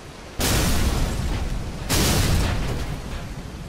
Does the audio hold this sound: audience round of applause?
no